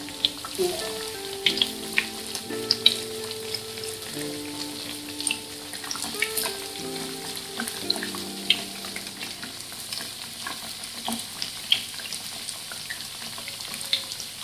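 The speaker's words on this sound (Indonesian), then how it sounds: "Goreng sampai crispy atau sampai teksturnya sesuai selera ya bunda." Banana pieces fry in hot oil for pisang goreng, a steady sizzle with small crackling pops throughout, close by and without talking.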